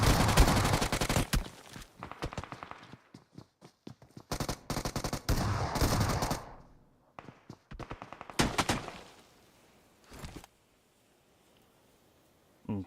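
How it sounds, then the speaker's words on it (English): Bursts of gunfire from the video game PUBG Mobile, in a competitive match, come in several loud volleys separated by pauses, some shots sharper and nearer, ending in near silence. "And Chapo shooting it through the smoke"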